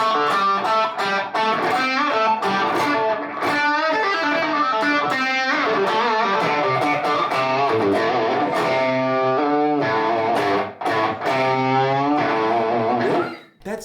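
An electric guitar played through an overdrive pedal straight into software with no amp gives a continuous gritty, distorted run of notes and chords, loud and upfront with no talking.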